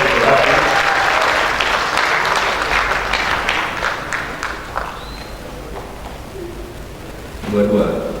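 A crowd at a community gathering in Malang breaks into strong applause that gradually thins out, then a short burst of clapping returns near the end, with voices mixed in.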